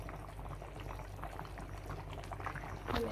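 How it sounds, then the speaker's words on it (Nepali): Snail curry boiling in a pot: a soft, steady bubbling and gurgle up close, quiet overall, swelling slightly toward the end. "एकछिन उम्लियोस्,"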